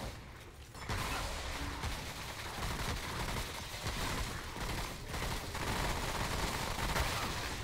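Gunfire in the video game Remnant: From the Ashes, heard as dense rapid bursts of shots that go on almost without a break throughout, loud and up close, with no talking.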